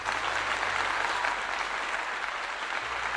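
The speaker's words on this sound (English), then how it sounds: "I give her a clap" Sustained applause from a crowd, a steady dense clatter of many hands clapping at even loudness throughout.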